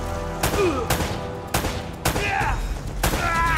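Gunfire from the video game Uncharted: Drake's Fortune crackles in sharp, loud bursts at irregular intervals of roughly half a second to a second, with brief electronic tones and a faint voice in between.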